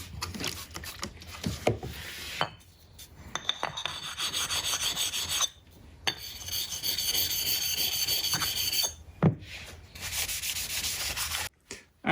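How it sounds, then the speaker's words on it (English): A coarse sharpening stone rubs over a Bridgeport milling machine vise to take off small dings, giving steady, close gritty strokes broken by brief pauses and a few sharp knocks. "This one I can almost go after with the coarse side of this stone a little bit."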